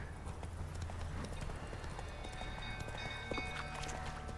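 Horse hooves clip-clop steadily in The Witcher 3, a continuous, even rhythm of close hoofbeats with no voices over it.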